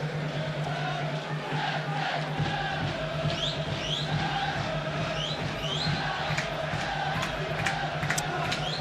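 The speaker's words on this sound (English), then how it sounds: "A very muted crowd at the moment" A muted football crowd at the Brandywell stadium in Derry for a Derry City versus Shamrock Rovers match, with low, distant murmuring and occasional shouts beneath a steady background.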